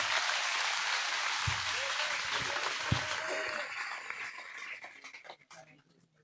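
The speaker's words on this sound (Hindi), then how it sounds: "एक बार जोरदार तालियां हो जाए इन सभी के लिए भी" An outdoor political rally crowd in Bajana Kalan, Ganaur, gives loud applause for block committee members, a broad continuous clapping that fades away toward the end.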